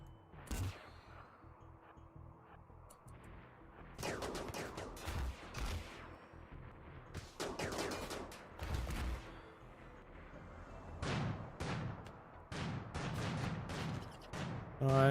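Automated defensive turrets firing in RimWorld, a colony-building video game, in repeated sharp volleys and bursts spread across the scene, with some booming impacts, moderately loud against a quiet background.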